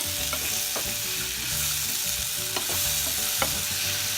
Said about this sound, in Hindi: इसको 1 मिनट तक ऐसे फ्राई करेंगे हल्का सा।